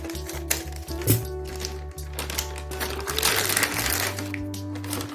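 An emptied plastic washing powder packet being cut open at the top, with crinkling, rustling plastic and small snips over a steady low hum of background music.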